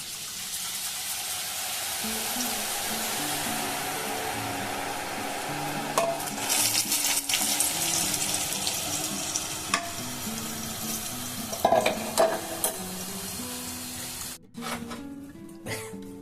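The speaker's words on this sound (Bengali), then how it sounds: "এবার আমি করে নেব লাল বোঁদে।" Red boondi frying in hot oil, a steady sizzle that runs throughout, with occasional stirring clatter and scraping louder near the middle and end; no talking.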